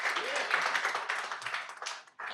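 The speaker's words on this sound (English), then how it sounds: "How about a round of applause?" Audience applause at an Atlanta Swing Orchestra concert saluting veterans, a soft, distant patter of clapping that fades briefly near the end, with faint voices underneath.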